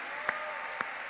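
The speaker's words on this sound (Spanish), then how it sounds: "¿Alguien pone un aplauso más grande para el Señor?" A church congregation applauding, heard as a steady faint wash of distant clapping with two brief sharper claps standing out.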